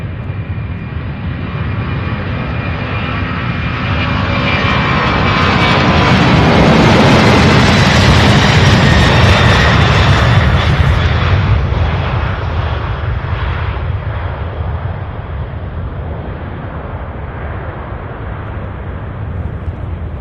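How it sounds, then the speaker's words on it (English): A UPS Boeing 767 at Louisville airport roars past with its jet engines, a loud rumbling swell that builds to a peak midway and then fades, heard alone and fairly close. "767 heading to Spokane, Washington,"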